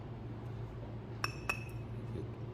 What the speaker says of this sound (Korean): 도자기 소리가 나고